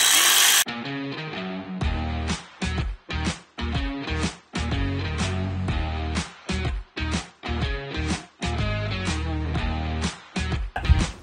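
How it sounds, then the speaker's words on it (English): A jigsaw cuts a skirting board in a series of loud, close bursts, its rough motor-driven rasp stopping and starting about a dozen times with brief pauses between strokes, and no one talking. "Same method, but we're just going to tip the jigsaw in to what Phil just said"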